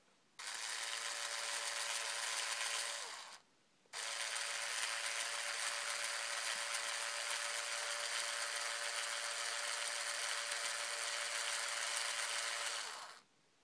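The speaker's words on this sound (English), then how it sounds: "You'll be able to see where it's drilling through the plastic." A drill boring through a plastic horn piece, a steady loud whirring grind that runs about three seconds, stops briefly, then continues unbroken for roughly nine more seconds.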